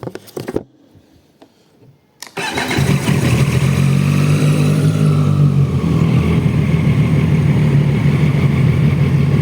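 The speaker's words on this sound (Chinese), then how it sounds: "这个是它怠速的声音" A Zontes 703RR motorcycle engine starts with the clutch after a few quiet knocks, then settles into a loud, steady idle rumble close by.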